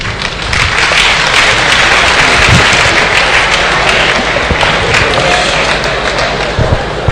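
A church synod audience of the Diocese of Lagos West in 2016 gives a sustained round of applause, loud and dense clapping from many hands that carries steadily throughout, with a few sharper claps standing out.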